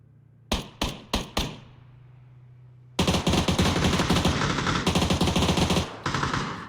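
Gunfire in a PUBG esports final on the Vikendi map: four sharp single shots ring out with short echoing tails, a brief pause, then a dense, loud burst of rapid automatic fire that keeps going to the end.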